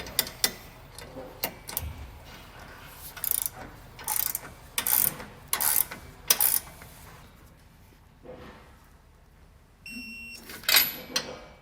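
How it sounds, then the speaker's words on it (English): A ratchet torques the bolts of a Roadmaster Direct-Connect base plate kit on a 2019 vehicle, producing short bursts of sharp clicking spaced by pauses, close and fairly clear. "Then you just want to torque these to the specs that are found in the installation manual."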